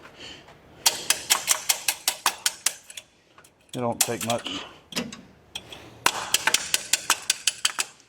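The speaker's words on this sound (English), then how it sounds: "Just hammer it in there. Just smack it down there a little bit." Quick bursts of sharp metallic tapping, a hammer striking metal in fast strings, pausing while someone speaks briefly in between.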